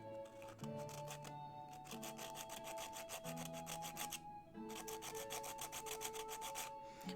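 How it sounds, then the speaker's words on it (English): Hand sanding of a large painted dragon miniature gives steady, rhythmic rasping strokes, close and fairly quiet, with short pauses between passes. "Sanding ASMR."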